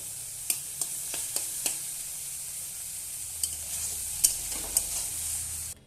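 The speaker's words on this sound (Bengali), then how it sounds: "আর একটু ভাজা ভাজা করে নেব।" Food sizzles steadily while being stir-fried in a pan, with sharp spatula clicks and scrapes at irregular intervals over the constant hiss.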